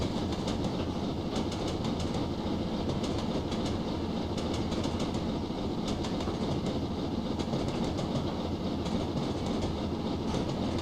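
A BR Black 5 steam locomotive in Train Simulator, running on Scotland's western lines: a steady, loud rolling rumble with rhythmic clickety-clack of the wheels over rail joints, continuous throughout with no talking.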